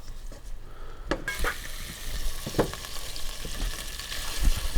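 Bacon frying in corn oil as the fat renders, a steady close sizzle with occasional sharp crackles and the scrape of stirring in the pan, no talking.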